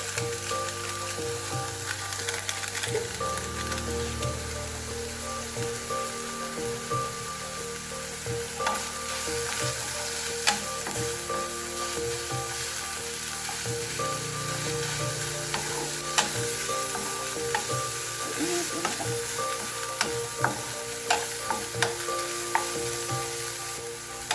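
Ground beef browning in a frying pan sizzles steadily and loudly throughout, with scattered crackles and pops and occasional stirring scrapes.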